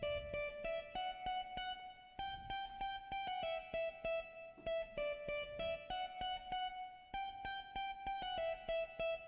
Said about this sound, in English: this guitar that played a melody line at the chorus part